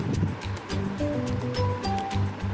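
Raw green papaya halwa being stirred in a pan, a steady run of soft, rhythmic scraping and wet churning strokes close by, with a low background hum and a faint tonal whine part way through, no talking.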